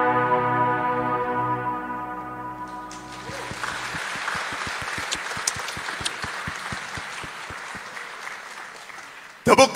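Church congregation applause at a celebration with a Catholic priest: a sustained voice-like tone gives way to a dense burst of clapping that carries on steadily, ending with a sharp loud knock.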